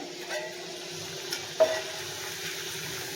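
Colocasia (taro) pieces frying golden in hot oil, a soft steady sizzle with a brief stir or scrape midway, close and fairly quiet with no voices.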